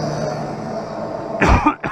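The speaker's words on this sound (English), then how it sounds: "Excuse me while I cough." A single short cough bursts out near the end, following a steady low mechanical hum that runs underneath throughout.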